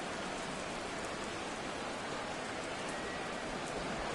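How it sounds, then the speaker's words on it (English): Steady rain during a football game in Madden 24, a constant soft hiss of falling water with no breaks, fairly faint and uniform throughout. "The rain set to continue as we are underway in the second half."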